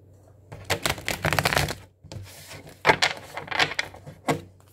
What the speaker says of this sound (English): Spirit says shuffle. Let's shuffle them up.